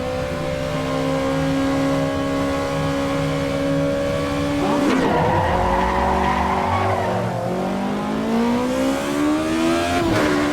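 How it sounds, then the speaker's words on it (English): Race car in the Assetto Corsa Evo racing game pulling away from a standing start on cold tires. A loud, steady engine drone rises into a surging rev with a burst of squealing wheelspin, then keeps climbing through the gears. "Car is started. She's gonna spin a lot."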